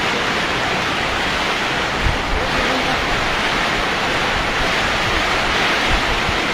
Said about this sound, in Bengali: প্রচুর বাতাস হচ্ছে এখন।